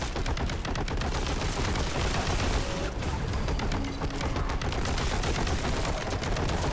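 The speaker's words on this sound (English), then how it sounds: "The heavy bolter will most likely be a great choice in the meantime" Heavy bolter fire in Warhammer: Boltgun hammers out as a continuous, dense barrage of rapid, punchy shots, loud and close, with no pauses across the whole stretch.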